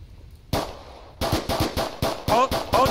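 Gunfire in the Onward VR video game: a sharp shot, then a rapid run of loud, close shots in quick succession, with a voice faintly present.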